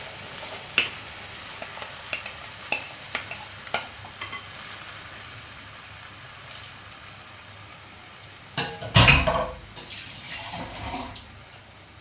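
Ground paste sizzling in hot ghee for a carrot payasam, a steady low frying hiss with a few sharp stirring clicks, then a loud burst of spattering and scraping near the end.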